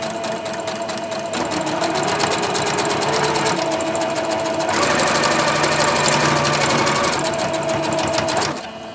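A sewing machine stitches fabric scraps with a fast, steady mechanical chatter close by, running almost nine seconds with a slight pickup in speed midway before stopping.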